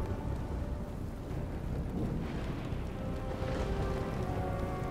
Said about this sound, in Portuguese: Veio uma ventania